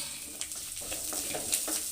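Small onions sizzle in a hot pan while a utensil stirs and scrapes through them in short, repeated strokes.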